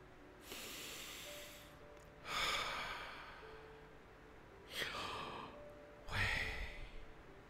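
Four separate breaths, heavy, airy inhales and exhales with pauses between, close and alone without speech.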